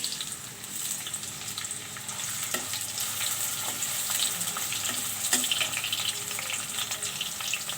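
Chopped onions fry with bay leaves in a pan, producing a bright, continuous sizzle broken by quick stirring scrapes and clicks.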